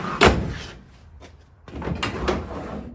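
A car door on a 1954 Kaiser Darrin convertible under restoration shuts with a sharp close near the start, followed a moment later by a second softer thud and some rattling in a quiet workshop.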